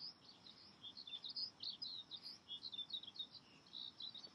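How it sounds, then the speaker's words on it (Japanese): Faint, high bird chirps repeat in quick bursts through the clip over a soft low rumble, with no voices. "鳥の声聞こえますか"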